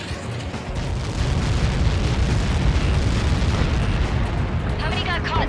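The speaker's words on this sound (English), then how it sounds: "How many got caught in that explosion?" A massive Helios projectile explosion in the Ace Combat 7: Skies Unknown flight game rumbles as a dense, sustained roar that swells after the first second and holds loud throughout, with faint radio chatter near the end.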